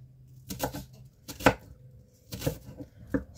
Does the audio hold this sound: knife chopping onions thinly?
yes